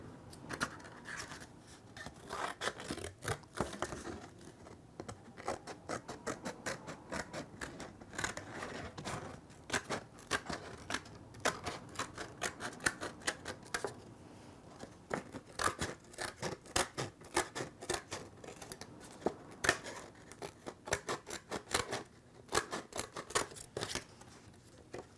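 Scissors cutting out a paper weather vane shape: a long run of quiet, close snips in irregular bursts, some quick and clustered, others spaced apart, with no talking.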